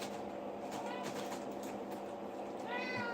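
A pet cat meows a few times, faint and somewhat distant, over a steady low background hum.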